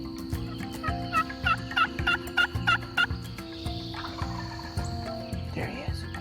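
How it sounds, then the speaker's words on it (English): A wild turkey gobbles in a field, a series of about five loud rattling gobbles in quick succession at moderate distance, over a steady hum of crickets and insects. "That bird gobbled 2 or 3 times in the field."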